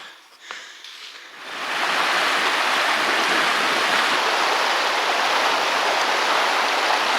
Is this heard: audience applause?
no